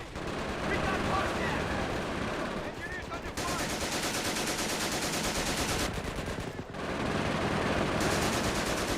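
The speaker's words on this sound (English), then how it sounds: "God, them MGs." Heavy machine gun fire in Company of Heroes 2, sustained loud automatic bursts that run almost without pause, with brief gaps, amid battle noise and voices.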